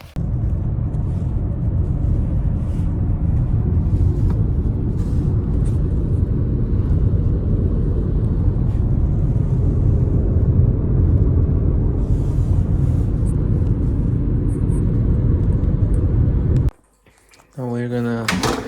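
A car drives along a French country road, a steady low road rumble and engine drone running throughout, briefly cutting out near the end before resuming.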